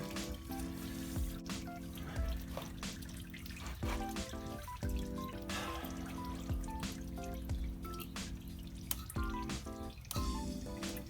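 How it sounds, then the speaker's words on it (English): Coolant dripping from an LS1 engine during oil pump and timing chain work, a steady trickle of drops falling into liquid at close range with no talk. "The water, or the coolant, has come down to a drizzle."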